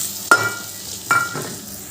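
Ground spices frying in a pan with a little water added, a soft low sizzle broken by two short clinks of a spoon scraping and stirring, close and fairly quiet.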